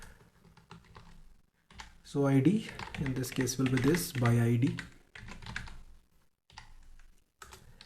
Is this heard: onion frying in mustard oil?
no